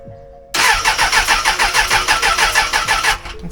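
A Suzuki Bandit 600 motorcycle engine turns over with a loud, rhythmic pulsing that begins suddenly, beats evenly for under three seconds, then drops away abruptly.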